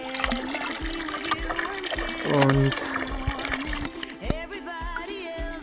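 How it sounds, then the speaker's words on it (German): Water runs from a public fountain into a water bottle being refilled on a long-distance bicycle trip, a steady trickle and splash beneath someone speaking German close to the mic. "habe diesen Brunnen hier gefunden. Trifft sich gerade gut, weil ich noch ein bisschen Wasser auffüllen muss."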